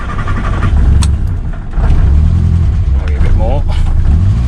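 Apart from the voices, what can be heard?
car engine starting with choke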